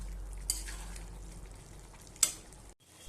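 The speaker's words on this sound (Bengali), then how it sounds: "এবার আমি ভালোভাবে কষাবো" Pointed gourd and potato cooked with whole lentils are sautéed in a pan, giving a soft continuous sizzle with a couple of sharp scraping stirs, heard close and alone.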